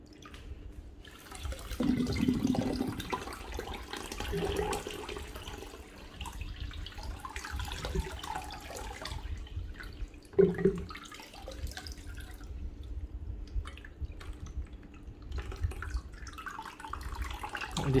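Water trickling weakly from a tap onto plastic that was cleaned with Clorox bleach, a low steady flow with small splashes and one louder knock partway through.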